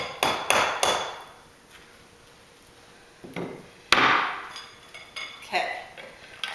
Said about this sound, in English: That's too big. So we need to break it up into little pieces, and it's gonna kind of go everywhere.